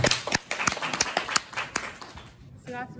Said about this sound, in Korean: 자, 고생하셨어요. 박수.